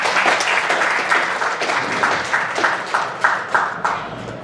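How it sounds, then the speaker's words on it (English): An audience at a business event gives a warm round of applause for the speaker Margarita, a loud, steady wash of many hands clapping that tapers slightly toward the end. "Please, round of applause for Margarita."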